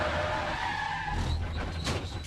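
A race car in an IMSA sports car race at Road America locks its rear wheels into turn 6, a loud sustained tire skid over the roaring engine, with no talk.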